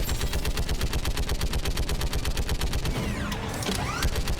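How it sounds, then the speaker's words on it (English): Garrus's gun fires in rapid automatic bursts in the video game Mass Effect 3, a loud, relentless stream of evenly spaced shots, with a brief whooshing effect near the end. "that's Garrus's gun that's doing that"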